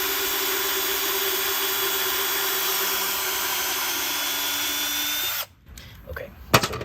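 A power drill drives deck screws into a cracked cabinet door, its loud, steady, high whine running for about five seconds before it cuts off. A few faint knocks and handling clatter follow.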